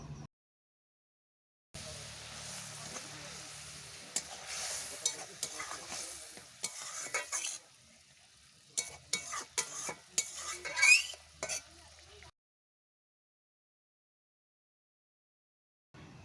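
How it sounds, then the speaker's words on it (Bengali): Fried puti fish going into a boiling spicy gravy in a pan, a short sizzling bubble with spatula stirring and scraping clatter, broken by stretches of silence. "ঝোলটা ফুটে এসেছে, এরপর আমি ভেজে রাখা মাছ দিয়ে দেব।"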